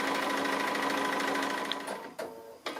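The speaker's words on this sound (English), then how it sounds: "I'm just going to skip onto the tree and then stitch all the way around the green" A sewing machine stitching around a tree appliqué on a quilt, a close steady high-speed whirring for about two seconds, then stopping, followed by a few short mechanical clicks, with no talk.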